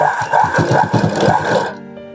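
A sewing machine stitches blouse fabric in a quick, loud, close mechanical whirr with rhythmic needle clatter for under two seconds, then stops abruptly.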